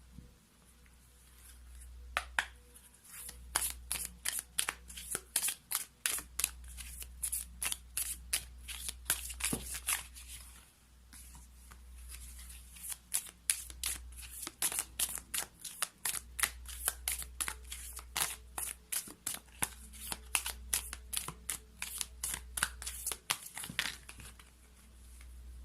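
A deck of playing cards is shuffled by hand for a card reading, with rapid riffling and flicking that repeats in bursts. It sounds steady and close, over a low constant hum.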